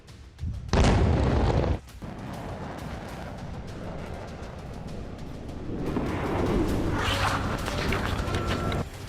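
Russian missile strike on Ukraine, a sharp, loud blast about a second in, then a long rumbling aftermath of debris and distant noise that swells again toward the end, with no talk.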